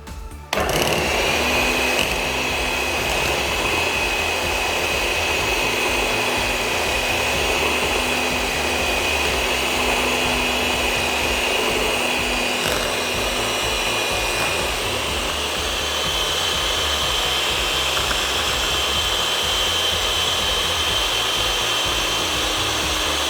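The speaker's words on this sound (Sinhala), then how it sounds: "දැන් අපි මේක විනාඩි 3ක් විතර හොඳට බීට් කරගමු." An electric mixer beats chocolate lava cake batter with vanilla added, a steady high motor whine with a faint tonal hum that runs unbroken for over twenty seconds after a brief start-up, close and loud, without talk.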